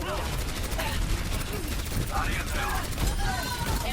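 Gunfire in the Overwatch video game, steady rapid shots and mechanical weapon noise filling the whole stretch with a continuous dense barrage, near and loud, with chatter and effects beneath.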